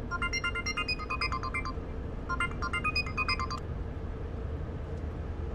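A telephone rings in a home with a repeated electronic ringtone, two bursts of tonal chirps, against a steady low room hum.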